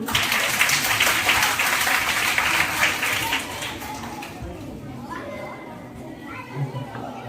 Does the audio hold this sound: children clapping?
yes